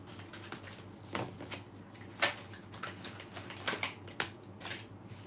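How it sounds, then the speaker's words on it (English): Tarot cards being shuffled by hand, a run of soft papery riffles and snaps in irregular bursts, fairly close and quiet, with no talking. "Just shuffle a bit to get this going."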